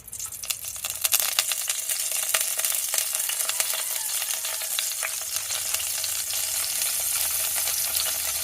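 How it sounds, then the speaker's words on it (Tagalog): Ginger, garlic and spring onion sautéing in annatto oil for balbacua give a steady, close sizzle with dense crackling and frequent sharp pops that swell just after the food goes in, then hold at an even level with no one speaking. "pwede nating ilagay at igisa yung ating mga panangkap guys"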